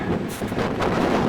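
Steady broadband wind rumble buffets the microphone throughout on a foggy, snowy hike, loud and continuous with gusty swells and no voices.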